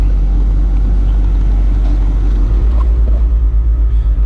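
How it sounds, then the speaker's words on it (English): Air compressor on a 1960 Cadillac Coupe DeVille with air ride suspension, refilling the tanks with a loud, steady low hum that picks up a rapid pulsing beat toward the end, with no speech. "you hear the air compressor's running, so fills the tanks back up again"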